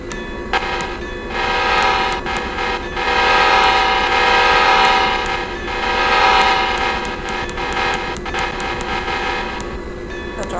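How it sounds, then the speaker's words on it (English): A locomotive in the Train and Rail Yard Simulator video game sounds its horn in several loud sustained blasts over a steady engine rumble, with a bell ringing repeatedly in quick metallic strikes throughout. "That's our horn."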